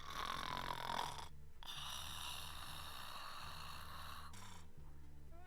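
A person imitates snoring with a wavering vibrato, a steady low rasping drone held for several seconds with no other talk.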